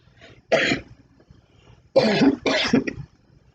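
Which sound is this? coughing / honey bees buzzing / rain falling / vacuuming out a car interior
coughing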